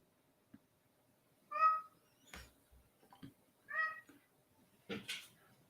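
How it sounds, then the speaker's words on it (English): A house cat meows twice, clear and fairly close, with a few soft knocks and small room noises between the calls and no talking. "I think you could hear my cat."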